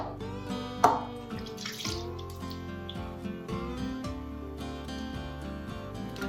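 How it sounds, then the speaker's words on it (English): Sugar water pours over broccoli in a steady liquid stream, faint and close, with small splashes and a sharp knock near the start, while music plays underneath. "So now I'm going to pour that over my broccoli."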